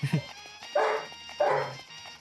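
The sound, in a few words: dogs barking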